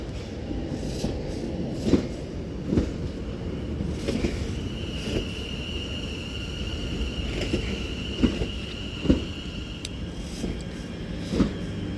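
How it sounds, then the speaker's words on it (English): A doubled-up West Midlands Railway Class 730 electric train pulling into Four Oaks station, a steady rumble with rhythmic wheel clunks over rail joints and a sustained whine, moderately loud and fairly close. "this West Midlands Railway Class 730, doubled up 730-0, terminates into Four Oaks now at the 1340 service from Redditch"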